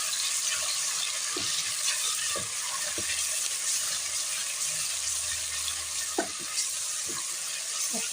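Garlic and ginger fry in hot oil with a bright, constant sizzle, punctuated by occasional soft knocks and scrapes of a stirring utensil, with no voices.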